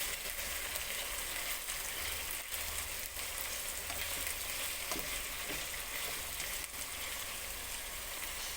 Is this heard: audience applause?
no